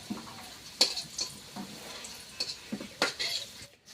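New potatoes fry in hot oil in a pan while being stirred, with irregular scraping clinks of the spatula against the metal over a soft, steady sizzle, close and with no talking.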